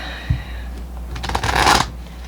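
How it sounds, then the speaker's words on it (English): A deck of playing cards is shuffled once at close range, a quick riffling flutter rising to a dense crackling burst lasting about a second. "I'll give it one more shuffle. I haven't used this deck in a while."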